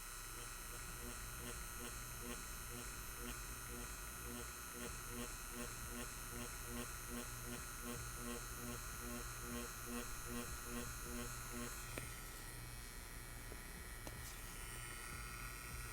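An Inkclaw tiny pen tattoo machine buzzes steadily and close while stippling, with a rapid regular pulsing hum throughout and a slight shift in tone near the end.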